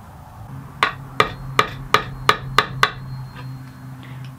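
Seven sharp, evenly spaced hammer taps drive tiny nails to fit hangers onto a cherry picture frame, close and crisp, followed by a few fainter ticks with no talking.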